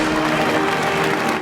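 A crowd in the stands at the Jurassic World mosasaur show applauds and cheers, a dense, steady roar of clapping with a faint tonal hum beneath it.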